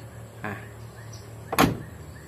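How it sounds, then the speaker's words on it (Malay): Door of an old-model Perodua Axia car being opened: a short mechanical click and thunk near the mic, then a louder latch release, with no speech over it. "Okey, sekarang kita buka pintu pula."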